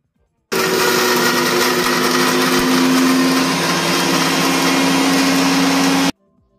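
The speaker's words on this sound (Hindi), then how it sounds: "अब करते हैं मिक्सर को ऑन" A Butterfly Magic food processor mixer chops spices and green chilies, starting abruptly with a loud, steady high-pitched motor whine and a slight tonal hum, running evenly for about five and a half seconds before stopping sharply.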